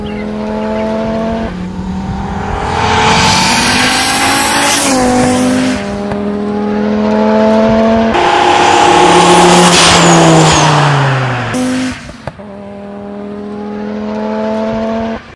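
An Audi S1 EVO 2 rally car accelerates hard, its engine revving loudly and rising in pitch through several gear changes. Each shift briefly drops the pitch, with a short break near the end before it climbs again, close and alone.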